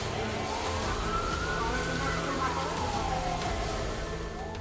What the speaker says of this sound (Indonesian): Belasan mobil damkar diterjunkan untuk memadamkan api.